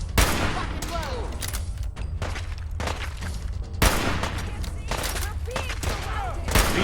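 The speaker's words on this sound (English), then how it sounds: "Give me some fire support. Suppressing fire." Rapid gunfire in a Fallout 4 firefight, dense bursts of shots and automatic fire rattling continuously with louder close blasts, while voices call out over the shooting.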